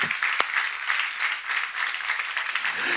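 A church congregation applauding during a sermon on Revelation, a steady wash of many hands clapping throughout at moderate distance, with one sharp louder clap near the start.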